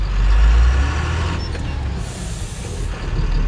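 A bus's air brakes release a loud, steady hiss over a low idling engine rumble, the airy noise holding for a few seconds with slight shifts in intensity and no talking.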